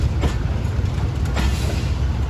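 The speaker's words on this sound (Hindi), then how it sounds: "प्लेटफॉर्म नंबर 1 को हमारी ट्रेन छोड़ते हुए" The Khushal Khan Khattak Express pulls away from platform 1 at Karachi Cantt station, a low rumbling roll of train wheels with faint rhythmic clacks, close and steady, without speech.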